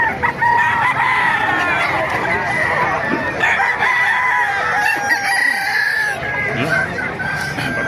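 Roosters crow repeatedly among clucking chickens at the Bocaue market, the drawn-out calls rising and falling close by, with other birds and some faint talk underneath.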